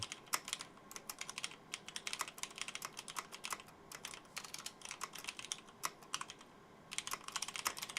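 Rapid typing on a computer keyboard, dense irregular clusters of crisp key clicks close up, with a short pause before a final flurry.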